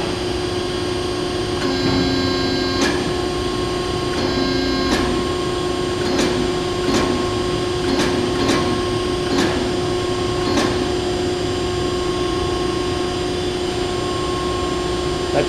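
An Ercolina roller machine runs a single rolling pass, giving a steady loud mechanical hum with a constant tone, and a series of sharp clicks and ticks spaced roughly a second apart.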